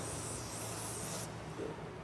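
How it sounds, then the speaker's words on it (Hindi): Cleaner sprays onto the engine head of a Royal Enfield Classic Reborn, giving a steady close hiss for about a second before it drops to a quieter hiss. "और इसको थोड़ा सा स्प्रे से साफ़ कर लेते हैं।"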